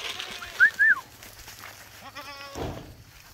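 Goats in a small herd being moved to the woods give a couple of short, loud bleats early on, followed by fainter bird-like calls and rustling, with no talking over them.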